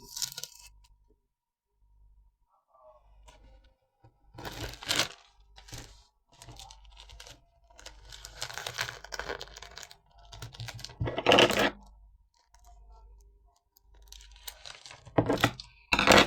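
Several loud rips of adhesive tape being pulled and torn, in bursts with short pauses, close by, with crinkling and handling noises between.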